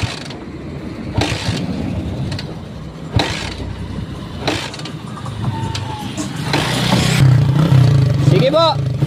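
A tricycle's small motor sputters and catches after several attempts, then settles into a steady, loud idle close by, while people talk over it.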